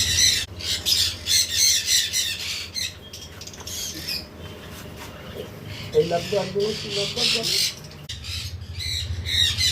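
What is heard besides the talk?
cockatiels squawking in aviary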